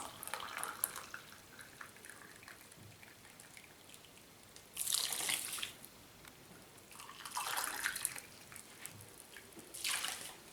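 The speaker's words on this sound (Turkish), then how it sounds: "Bardak ölçüsüyle sıcak suyumuzu ekleyelim." Hot water poured into salted bulgur to make kisir, a steady liquid pour in a few bursts of splashing and trickling, fairly close and quiet with no talking.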